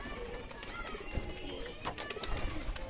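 Desi Giribaz pigeons coo softly in their loft, a faint, low murmuring of bird calls over a constant background hiss.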